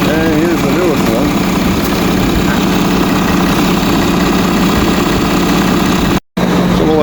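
A Caterpillar 317 Next Gen excavator engine runs at a steady idle, a loud continuous diesel rumble with vibration throughout and a brief dropout near the end.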